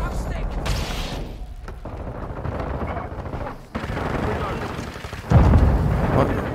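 Rapid gunfire in the Modern Warfare 2 video game, bursts of loud cracking shots in several clusters with a heavy blast near the end, with a player's voice talking over the action.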